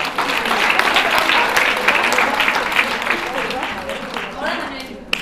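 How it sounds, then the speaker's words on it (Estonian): Audience applause at a forum theatre performance in Tartu, a dense sustained clapping from a crowd that continues steadily and fades slightly toward the end. "Aitäh teile. Aplaus."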